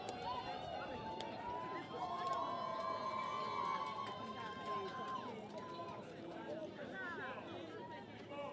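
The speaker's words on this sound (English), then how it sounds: "Some loud cheering coming from the Guyanese women's team and their supporters" Loud cheering and shouting from a Guyanese women's rugby sevens team and their supporters at a Cayman Islands versus Guyana match, a sustained crowd roar with whistles and overlapping voices throughout.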